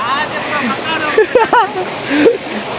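The Himidurawa mini waterfall pours in a steady broadband rush of water, with voices talking loudly over it for much of the time.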